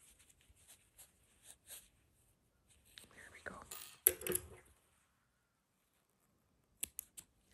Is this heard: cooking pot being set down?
no